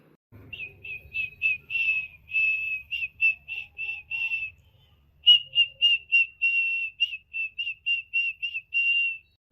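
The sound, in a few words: someone whistling at a girl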